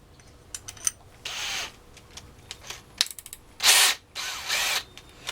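A Dewalt DCD796 hammer drill with a 25mm spade bit, heard in several loud whirring bursts of about a second each, separated by shorter clicks and pauses as the trigger is pulsed.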